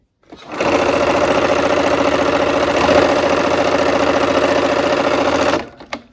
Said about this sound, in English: I'm just kind of sewing up, lining it up with the rest of the block here.